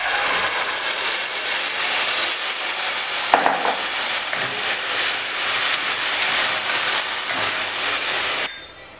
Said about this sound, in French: Et là, nous allons mettre notre tomate concassée.